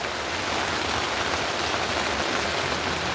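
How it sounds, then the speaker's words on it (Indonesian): Steady rain drums on a tent at a campsite on Mount Sindoro, a dense, even hiss with no talking. "Lagi di bak hujan guys, lagi di bak hujan."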